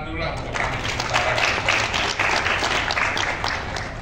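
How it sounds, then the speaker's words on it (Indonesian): An audience at an Indonesian city administration office event breaks into steady applause, a thick wash of clapping that holds evenly throughout, with a few voices mixed in underneath. "Jadi tepuk tangan dulu lah untuk kami."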